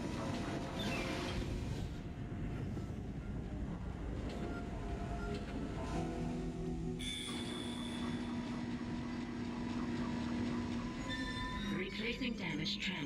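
A tram car in the Dead Space video game rumbles and rattles along its track with metallic squeals, a steady loud mechanical drone running throughout, with a shift in tone partway through.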